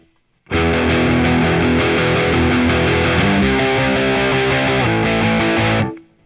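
A loud, heavily distorted electric guitar through a Boss Katana MK2 amp with the graphic equalizer off plays a chugging riff of sustained chords for several seconds, then cuts off abruptly, with no voices.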